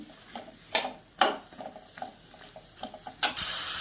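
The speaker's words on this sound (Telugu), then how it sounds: "ఇప్పుడు తరుక్కున్న వంకాయ ముక్కలు వేసేస్తాను ఇప్పుడు ఇవి బాగా మిక్స్ చేసేస్తాను" Chopped eggplant pieces are stirred in a pan for a Telugu-style brinjal curry: soft, scattered spoon scrapes and a few sharper clanks against the pan, ending with a steady hiss of sizzling.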